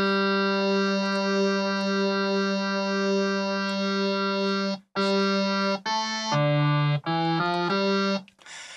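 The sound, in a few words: synthesizer with detuned wavetable oscillator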